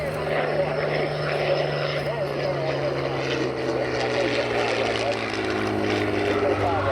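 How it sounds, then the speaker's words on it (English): An F4U Corsair propeller warbird flies by in a five-ship formation with P-51 Mustangs and Spitfires, its engine drone loud and steady throughout with a slowly falling pitch, while voices talk over a radio. "There's the F4U Corsair."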